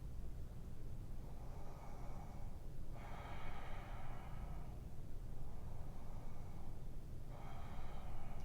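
Slow, deep breaths during a yoga practice, three long airy inhales or exhales spaced a few seconds apart, soft and close over a quiet background hiss.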